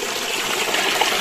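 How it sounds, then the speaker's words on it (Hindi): Clear spring water gushing out from a mountain cave near a remote village, a steady loud rushing stream close to the microphone with no talk over it. "ये देखें कहाँ से निकल रहा है पानी।"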